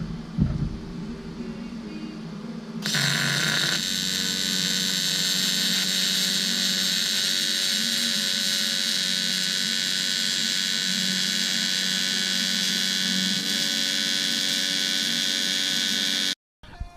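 A welder lays beads on a charge pipe, a steady loud buzzing hiss that starts after a few seconds, holds unbroken for about thirteen seconds, then cuts off abruptly.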